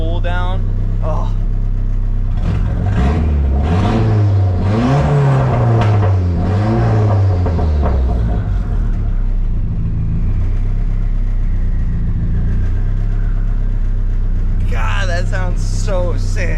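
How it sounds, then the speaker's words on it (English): A Mazda Miata engine revs with a rising turbo whine that winds up and then spools down, loud and close, with a brief burst of talking near the end. "The turbo spool and the spool down."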